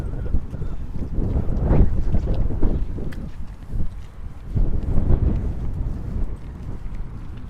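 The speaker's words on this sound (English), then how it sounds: "But yeah, it is very windy. And it's getting worse now." Strong gusting wind buffets an external microphone outdoors in Central Park, New York City, on a Sunday morning, a steady low rumble that surges louder in waves, with no talk.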